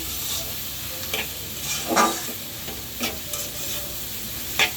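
Vegetables tossed with noodle spice mix in a frying pan, a constant sizzle broken by several scraping stirs of a spatula at irregular intervals, close and fairly loud with no talking.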